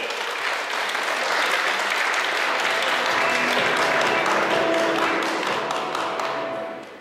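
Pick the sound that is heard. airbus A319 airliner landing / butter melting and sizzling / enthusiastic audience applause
enthusiastic audience applause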